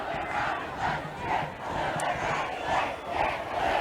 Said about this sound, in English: Corner Canyon with a brutal crowd tonight